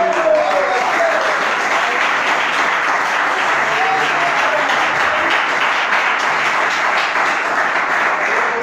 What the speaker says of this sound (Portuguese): Senta e aplaude ao Rei da Glória bem forte para Jesus